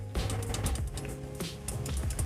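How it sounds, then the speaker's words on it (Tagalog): Rapid mechanical button clicks from a Machenike HG510W Pro wireless gamepad with mechanical switches, a steady run of sharp, close taps pressed in quick succession, heard alone. "So ito mga quiz yung tunog ng kanyang button,"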